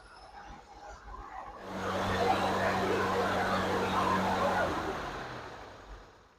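A 1970 GMC K3500 truck engine revs up from idle, holds a loud steady roar for a few seconds, then falls back toward idle, close and dominant, with a voice at the start.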